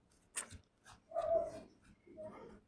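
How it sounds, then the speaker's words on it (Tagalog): A pet dog on a rural farm, one that tags along with its owners and hangs around the water buffalo, gives three short whiny yelps and barks spread over a few seconds, fairly close and moderately quiet, with no talking. "Kasama lagi namin yung aso namin guys."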